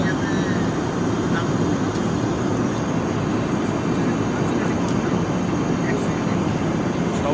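Airplane cabin during flight, a steady loud engine drone filling the space continuously while passengers eat and talk over it.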